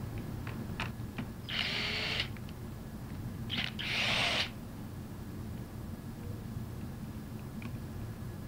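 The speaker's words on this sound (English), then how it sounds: "we're going to use a cordless impact gun." A cordless impact gun works on the bolts of the discharge manifold on a bolted metal air-operated diaphragm pump, firing in two short whirring bursts a couple of seconds apart against a quiet background hum.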